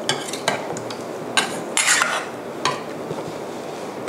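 Tofu is stirred into a pot of steamed rice noodle rolls, with a steady low simmer under intermittent scraping and clanking of a utensil against the pot, close by and without speech.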